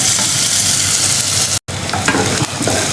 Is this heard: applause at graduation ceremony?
no